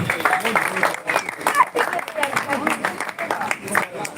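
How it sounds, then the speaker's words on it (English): An audience at a book event in Lagos gives a round of applause, with scattered clapping running continuously under nearby talk. "A round of applause again."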